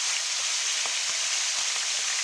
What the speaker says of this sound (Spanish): Sellar bien la carne para que no se nos escapen los jugos